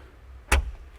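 A thumb-activated cab door on a Kubota U55 excavator opens with a single sharp latch clack and a short thump, close and clear against a quiet background.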